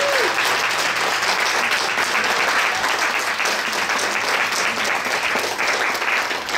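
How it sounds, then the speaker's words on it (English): A concert audience gives sustained, dense applause for a high school symphonic band, loud and even throughout without fading. "One big last round of applause for our Northern High School Symphonic Band."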